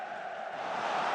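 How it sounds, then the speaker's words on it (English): Stadium crowd noise from the football management game Football Manager 2023, a steady, moderately loud wash of massed voices that swells slightly toward the end, with no commentary over it. "I wanted the crowd noise on as well, just for a bit more atmosphere."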